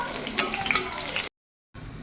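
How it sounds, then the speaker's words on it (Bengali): Small chela fish fried hard and reddish in hot oil in a pan, giving a steady crackling sizzle with a brief cut to silence midway before the frying resumes. "এই তো মাছগুলো একদম বেশ শক্ত শক্ত করে ভেজে নিয়েছি, মানে লাল লাল করে"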